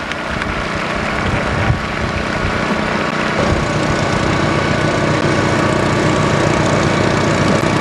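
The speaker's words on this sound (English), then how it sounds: "Okay, taxiing you saw right there." An aircraft taxis at the 1986 Daytona Beach Skyfest airshow, giving a steady, moderately loud engine drone that runs throughout with no talk.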